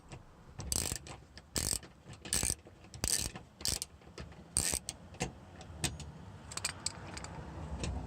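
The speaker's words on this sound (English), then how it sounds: "Then use the 10mm socket and ratchet to remove the retaining bolt." A 10mm socket on a ratchet loosening a retaining bolt under a Honda Civic Type R FK2 engine service tray, heard as close, sharp bursts of ratcheting clicks in uneven runs with short pauses between them.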